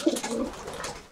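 Racing pigeons in a Polish loft coo in a soft, close, low throaty burble lasting about a second, with no talk over it.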